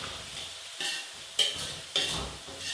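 Garlic fries and sizzles in a pan with light brown onions, a soft steady crackle broken by a few scraping stirs of a spoon against the pan.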